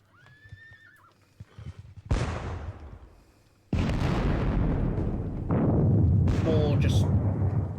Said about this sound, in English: More just general artillery fire.